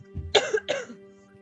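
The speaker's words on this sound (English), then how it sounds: "my cough is getting worse" Two short, harsh coughs in quick succession, close and fairly loud, followed by quiet.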